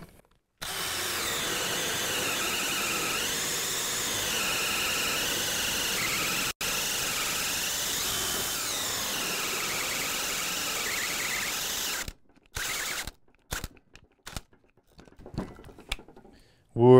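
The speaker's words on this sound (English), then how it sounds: "I don't want to burn out my drill." A power drill drives a Spyder carbide hole saw through a workpiece, a loud, steady grinding whine lasting about twelve seconds before cutting out, followed by brief scattered clicks and bumps.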